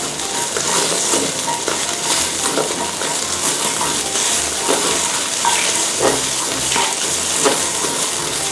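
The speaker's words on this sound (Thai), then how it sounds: "ผัดน้ำพริกแกงให้หอมก่อนนะคะ" Curry paste for pork khua kling sizzles and fries in a hot pan as it is stir-fried. A continuous close crackle runs throughout, with soft scraping and stirring strokes breaking through now and then.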